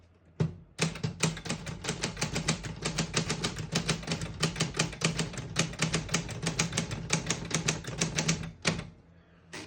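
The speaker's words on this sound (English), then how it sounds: "I'll type a sentence in red on the next line." Rapid, steady clacking of a 1966 Brother Opus 900 manual portable typewriter, keys striking in quick succession for several seconds with a brief pause near the end, close and clear.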